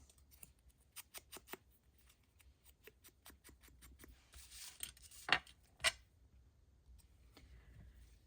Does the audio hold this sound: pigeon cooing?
no